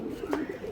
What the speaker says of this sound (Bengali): এগুলা প্রত্যেকটা কবুতর কিন্তু আমার নর কবুতর